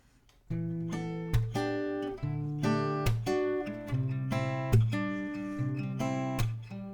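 Strummed acoustic guitar chords with percussive slaps, a steady rhythmic groove of sustained chords punctuated by sharp hits, close and moderately loud.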